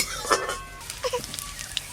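Chopped garlic and two dried red chillies fry in hot oil in a kadai, a soft, steady sizzle with brief stirring clinks of a utensil against the pan, close and fairly quiet.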